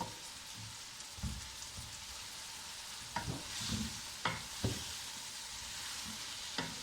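Eggplant and potato pieces stirred in a pan for a simple home curry, giving soft scraping and clattering strokes over a faint background hiss, with a few sharper knocks of the spoon against the pan.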